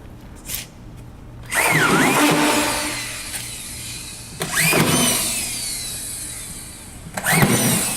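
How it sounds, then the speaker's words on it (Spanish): A screw gun drives screws into Aquapanel cement board in three separate bursts, each a rising whine that peaks and then stops, close by and loud over a quiet background. "se regulará la capucha de la máquina de tal manera que el tornillo va a quedar enlazado con la superficie de la placa"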